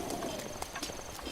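Horse hooves clip-clopping in the video game The Legend of Zelda: Breath of the Wild, a quick series of distinct hoof strikes over steady background sound, close and moderately loud.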